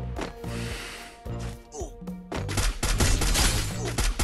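Rapid bursts of automatic gunfire from the Free Fire shooter game, close and loud, with sharp repeated shots that grow denser and more continuous toward the end.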